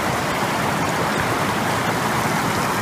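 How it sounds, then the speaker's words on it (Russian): A mountain river near Lake Issyk-Kul rushes steadily past, a loud, close, unbroken broadband roar of flowing water with no talking over it. "мы обратно спустились к этой речке"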